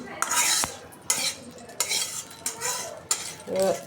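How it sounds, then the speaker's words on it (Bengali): Garlic frying in a wok with oil, the sizzle punctuated by sharp metallic scrapes and clinks of a spatula stirring in bursts, fairly close and otherwise quiet. "রসুন এটা ভিতরে ভেজে নেব।"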